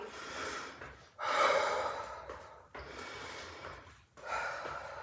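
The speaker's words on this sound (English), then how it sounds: "Nice deep breaths. You can breathe through the mouth, getting extra oxygen to the lungs throughout the body." Deep breaths drawn through the mouth while cooling down after exercise: a few slow, audible inhales and exhales, close and fairly soft, rising and falling with short quiet gaps between them.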